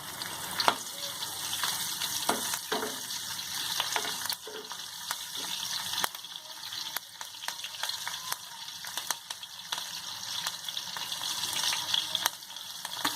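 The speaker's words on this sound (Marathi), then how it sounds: "तापले तेल, आता आपण आता मिरची टाकूया" Green chilies frying in hot oil at the start of a Malvani-style sea fenugreek dish: a dense, close crackling sizzle runs throughout, broken by scattered pops and stirring clicks, with no voices.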